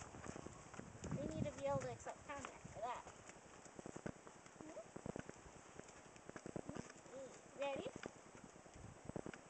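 Hooves clop in a steady walking rhythm on soft ground while people talk nearby, the footfalls faint and regular beneath the voices.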